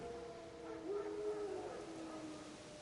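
Wild dogs howl faintly in the distance in the Witcher 3: Wild Hunt game world, a single wavering howl rising and fading over a quiet background.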